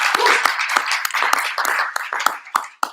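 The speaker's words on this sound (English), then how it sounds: "Let's give ourselves another round of applause for making this happen." Audience applause at a university thesis competition, a lively round of many hands with a few sharp, close claps standing out, tapering off toward the end.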